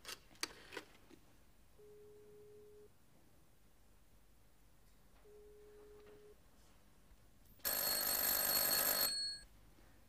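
A telephone by a bedside rings unanswered, sounding as two separate steady tones with a pause between, then a loud, harsh burst of ringing near the end, with no talk.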